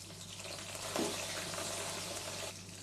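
Mustard seeds, fennel and spices frying in hot oil in a pan give a steady crackling sizzle with faint pops, heard close and alone for under three seconds.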